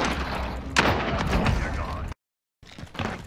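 Gunfire in the video game Call of Duty Warzone: rapid loud shots and bursts crackle over a steady battle din, with a sharp crack near the start and a sudden cut to silence before firing resumes.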